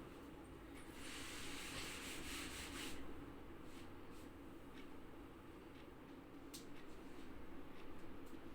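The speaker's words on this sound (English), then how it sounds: "Shall I rub the board?" Chalk being wiped off a classroom board gives a faint, continuous rubbing swish in long sweeping strokes over a quiet room hum, with a brief tap near the end.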